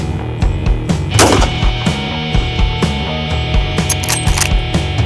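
A Marlin 1895GBL .45-70 rifle fired offhand at a steel gong 300 yards away, heard as a loud sharp report over a busy, cluttered outdoor background, with sharp transients throughout.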